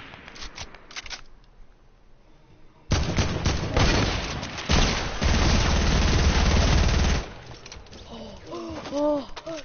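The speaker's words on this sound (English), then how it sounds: "That hunting rifle shot was so close" Gunfire from a hunting rifle in a video game, loud dense bursts of shots filling the middle of the clip, with quieter game sounds before and after and a voice near the end.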